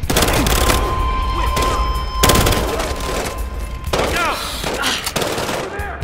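Shotgun blasts in the video game Battlefield Hardline boom in several heavy, spaced shots, loud and close, with a voice talking between them.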